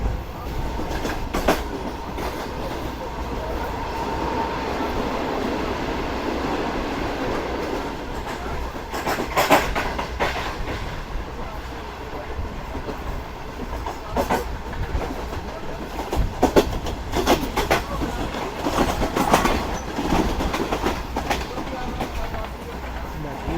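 The Pak Business Express train rolls along the rails with a constant heavy rumble and scattered clacks and jolts, heard from on board, with voices now and then under the noise.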